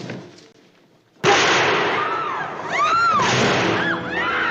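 Two sudden sharp gunshots from the 1959 film North by Northwest, a loud burst cutting through quiet, followed by lingering noisy sound with sweeping tones.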